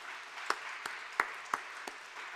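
Slow, evenly spaced claps, about five in all, from a church congregation at a Friday prayer service honouring students who sang hymns. The claps are sharp, sparse and fairly close over a quiet room.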